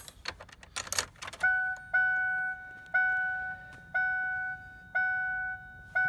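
Keys jangle briefly as a car key slides into the ignition of a Ford Ranger, followed by a loud chime that repeats evenly about once a second.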